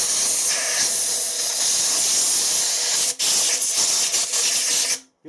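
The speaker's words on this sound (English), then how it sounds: "it pays it to give it a blow out and a clean" Compressed air blasts into a lathe chuck in a loud, continuous close hiss, broken by one brief cut in the middle, and the airflow stops abruptly at the end.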